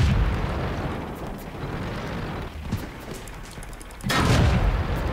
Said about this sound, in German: Was ist da jetzt für ein Schuss abgeballt?